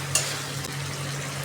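Potatoes stirred in a pan for a Bengali aloor dom, salted and lightly sweetened, give a steady soft sizzle under one brief sharp scrape near the start. The sound stays fairly quiet and continuous with no voices.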